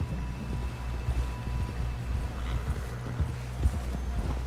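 Horse hooves clip-clop at a steady galloping rhythm in the Red Dead Redemption 2 video game, loud and close throughout, with a low rumble underneath and no talking.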